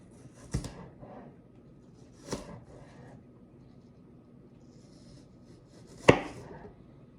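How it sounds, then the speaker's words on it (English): A knife slicing an apple into pieces on a cutting board, three separate soft cuts spaced a couple of seconds apart, the last one a sharper tap, in a quiet room. "Let's cut up one more apple. Can you cut it 4 times?"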